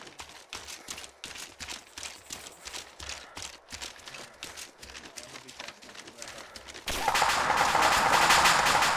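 Arma 2 military combat brings rhythmic bursts of gunfire close by, then a louder dense volley of fire toward the end, with soldiers' voices talking over it.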